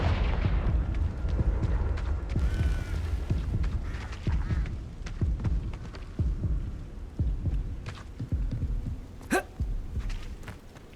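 Repeated blasting spell impacts of Confringo in Hogwarts Legacy on PS5, a series of thumping bursts and crackling explosions, one sharp bright blast near the end, with no talking.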